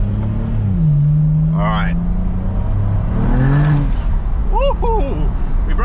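A BMW 335i with a twin-turbo N54 engine and a clutch-type differential revs hard at full throttle while the tires break traction. The engine note climbs and falls through gear changes, and a voice is heard over it.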